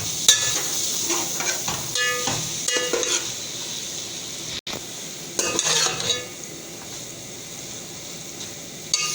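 A spoon stirs cabbage curry in a pot after simmering on a low flame, making irregular scraping and clinking against the metal over a light sizzle, with quieter stretches between bursts of stirring.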